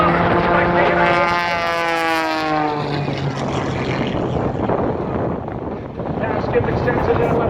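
An aerobatic airplane powers up at a Gaylord, Michigan air show. A droning engine tone slides downward, then turns into a broad, rushing roar as the plane passes. Wind buffets the microphone.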